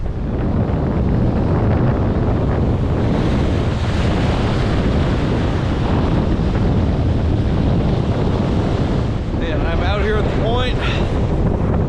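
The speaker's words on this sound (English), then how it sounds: "Got some good wind, and there's actual breaking waves off there" Strong wind and breaking ocean waves at Point Wilson on a cold January day, a loud continuous roar of gusts and surf buffeting the microphone throughout.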